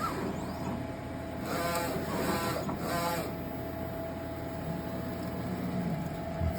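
An inkjet printer running a nozzle check print, with a steady mechanical whir throughout and a few louder bursts of carriage and feed motion partway through, heard alone with no talk.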